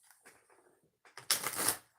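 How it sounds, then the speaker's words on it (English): Oracle deck being shuffled by hand: a soft, scattered riffle of cards builds into one loud, dense flurry of flapping and ruffling before fading, with no talk. "3 shuffles"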